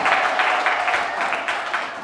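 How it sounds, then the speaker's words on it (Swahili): A church congregation applauding for Jesus during a service, a dense, even wash of clapping that holds steady for about two seconds, close and full. "Mpe Yesu makofi mazuri sana"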